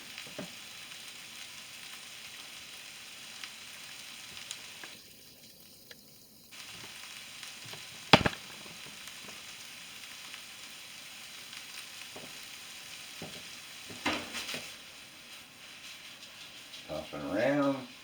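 Roast beef hash browns in a frying pan with a soft continuous sizzle, broken by brief stirring scrapes and clinks, while a person talks over it.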